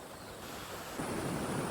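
A mini waterfall in a forest at Umarpada, heard as a steady broadband rush of falling water that swells a little louder partway through, with no voices.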